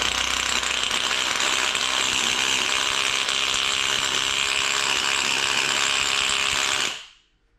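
An Einhell or Parkside rotary hammer drill runs loud and steady in hammer mode with a harsh, grinding mechanical whine for about seven seconds, then stops abruptly.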